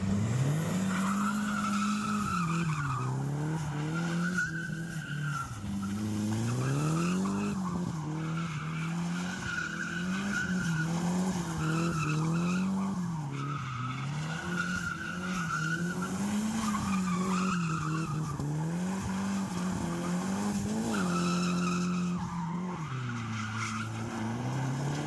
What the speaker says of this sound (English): I've sort of done a few burnouts yesterday, which I might add a clip in.